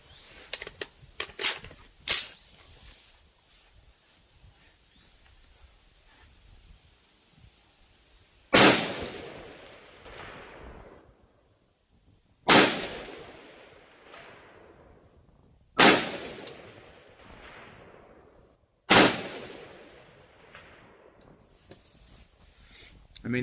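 Rifle shots fired at long range through a 3x magnifier optic: several sharp, loud cracks, each trailing off in a long echo, with a cluster of quicker reports at the start and four evenly spaced shots afterward.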